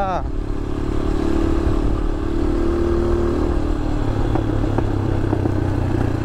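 A motorcycle rides along a rough, slippery village road in Ramechhap, Nepal, on ordinary road tyres; the close engine hums steadily throughout with loose rattling and clattering from the bumpy surface.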